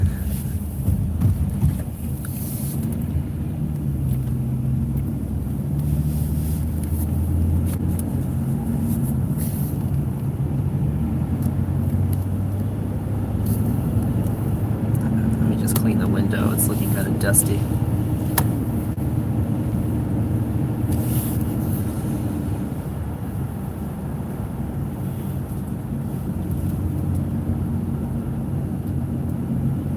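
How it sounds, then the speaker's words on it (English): A large Chevrolet Suburban cruising down a winter road, a steady low engine and tyre drone with constant road rumble throughout, heard from inside the cabin, with a voice speaking briefly at the start. "the Suburban is a very large vehicle, so all that power is just to move how huge it is"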